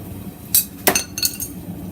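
A forged chef knife blade drops and clatters in a workshop, a few sharp metallic clinks and bounces in quick succession, close and loud against a quiet background.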